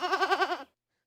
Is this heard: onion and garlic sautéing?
no